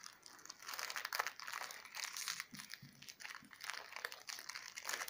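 A Match Attax Extra card packet is torn and crinkled open, continuous close crumpling and rustling of foil wrapper with no talk.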